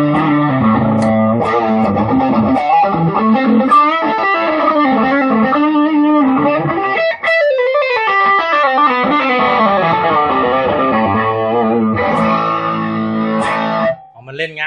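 Electric guitar played through a Shark G/B pre booster pedal, giving a loud, continuous boosted and overdriven tone with chords and single-note lines ringing throughout and a short break near the end.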